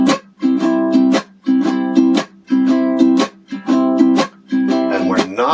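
Ukulele strumming in a repeating chop pattern, where bright chord strums are cut short by the heel of the hand muting the strings, leaving percussive gaps in a steady groove.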